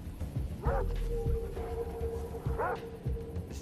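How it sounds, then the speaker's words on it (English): Two short bursts of dog barking and yipping, one early and one later, from a pack of three dogs in Far Cry 3, heard at moderate distance over a steady game hum with faint background tones. "It's the guy and three dogs."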